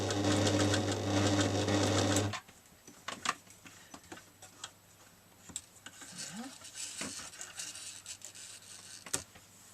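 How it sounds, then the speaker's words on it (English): A sewing machine whirs steadily for a couple of seconds stitching denim, then stops, followed by faint clicks and small handling noises. "set up the sewing machine and away you go"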